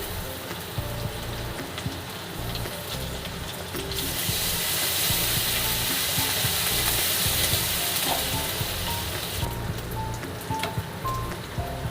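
Loud, steady sizzling of chopped ginger frying in hot oil for chilli chicken, growing more intense midway and continuing without any talking.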